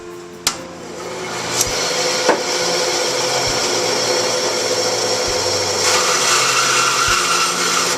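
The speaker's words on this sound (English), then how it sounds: "Now I just have to cut them off and then sand the top" A power tool cuts and sands small wooden doll hats made from distillery salvage wood, a loud steady whine with brief sharp knocks at the start and a rougher, brighter sanding stretch near the end, no talk.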